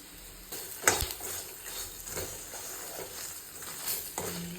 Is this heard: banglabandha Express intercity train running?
no